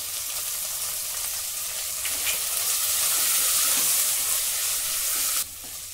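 Curry leaves, asafoetida and turmeric sauté in hot oil in a pan, a loud continuous sizzle with faint stirring scrapes that cuts off abruptly near the end.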